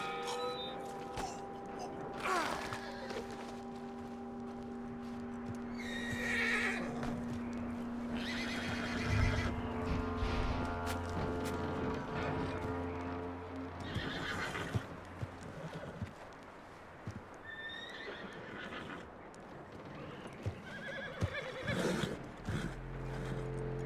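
Horses in a Red Dead Redemption 2 ranch scene whinny repeatedly and loudly, with hooves clip-clopping between neighs over a quiet musical background.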